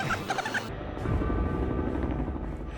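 A doorless helicopter lifts off, its rotor and engine producing a loud, steady broadband roar that swells after a brief quieter moment at the start, heard close from on board with no talking.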